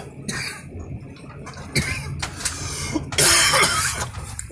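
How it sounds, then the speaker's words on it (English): Harsh, hacking coughs in close, ragged bursts, several fits separated by short pauses, with the loudest and roughest burst near the end. "This ridiculous coughing that like, It's harsh."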